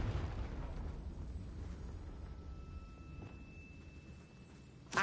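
A Confringo fire spell explodes in Hogwarts Legacy, a sustained, loud, rumbling blast that fills the whole clip, with a sharp burst right at the end.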